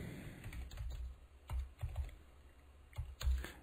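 Computer keys clatter in irregular bursts of quick taps with short pauses, close and clear in a quiet room, with no voices.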